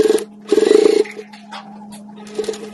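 A sewing machine stitches an embroidered Wonder Woman face mask, back-stitching at the earpiece: short, close whirring bursts of rapid needle strokes, the longest in the middle, separated by quiet pauses with faint handling sounds.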